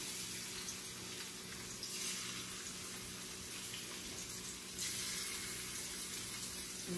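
Salmon fillets laid into a hot pan sear with a steady, even hiss that runs close and fairly loud throughout, a constant sizzle with no voices over it.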